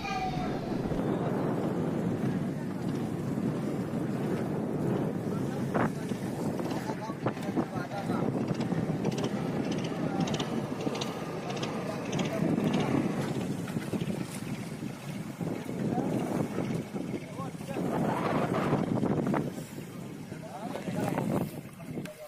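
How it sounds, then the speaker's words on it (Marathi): Gusting wind and rough sea churn around a deep-sea pomfret fishing boat off Mumbai, a constant roaring buffet on the microphone with swelling surges and faint voices underneath. "आज समुद्र खूप खवळलेला आहे"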